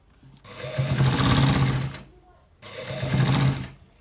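A sewing machine stitching a designer shirt with buttons runs in two close, loud bursts of rapid mechanical whirring, separated by a short pause.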